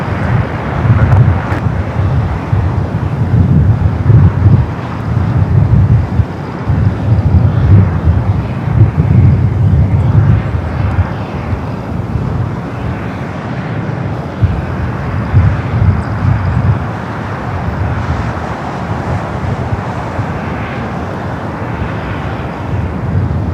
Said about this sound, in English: This flight coming in from Vegas, flight 310, a 12-year-old A320.